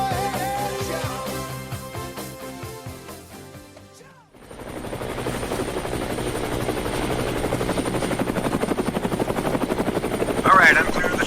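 A helicopter hovers close by with a steady, rapid rotor chop and engine whine that fills the second half, rising slightly in loudness, following a stretch of music that cuts off abruptly.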